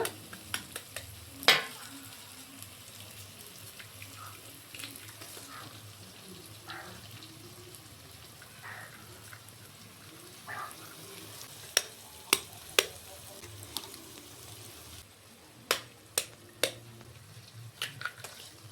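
Food with turmeric and coriander powder sizzles quietly in a pan while a utensil stirs it, leaving soft scraping and occasional sharp clicks against the pan over low frying noise.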